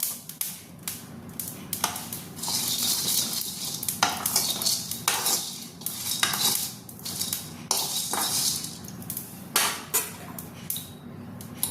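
Coriander, cumin and fennel seeds roasting on a hot tawa with the flame off, heard as a soft sizzle under repeated dry scraping and tapping of a spatula against metal, close by and without talk.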